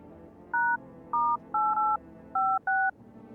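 Electronic telephone keypad tones in a video game, six short clean beeps in an uneven rhythm as a number is dialed, loud and alone over faint background hiss.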